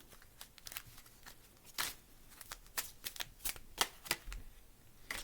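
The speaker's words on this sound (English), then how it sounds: "I just want to grab an angel card for your shadow." Angel cards being shuffled by hand during a reading, a run of quick, crisp riffling flicks and soft slaps in irregular bursts, fairly close and quiet with no talking.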